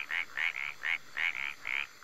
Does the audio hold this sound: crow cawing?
no